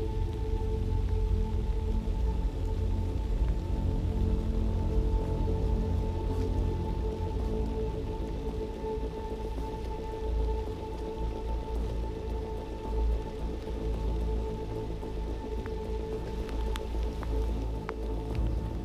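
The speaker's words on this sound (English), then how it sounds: "And at the end, it rained." Steady rain falling outdoors, a dense continuous patter of drops on surfaces that stays even and fairly loud throughout with no voices.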